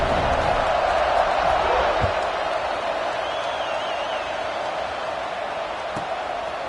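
Football stadium crowd at a Notre Dame vs LSU kickoff: a dense, steady roar of many voices that holds loud and continuous throughout, with faint thumps beneath.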